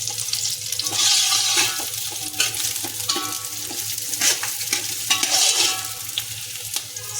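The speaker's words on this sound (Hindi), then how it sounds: "हल्दी को भून लीजिए, फिर नमक और ये साथ में डाल दीजिए।" Chili and turmeric frying in a pan over a low flame, with a continuous soft sizzle and intermittent stirring scrapes, steady and close, no talking.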